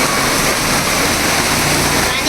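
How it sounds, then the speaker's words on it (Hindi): Heavy rain pouring down in a steady, dense hiss that fills the whole moment evenly, close and loud with no breaks. "ये देखो मस्त वाली बारिश हो रही है"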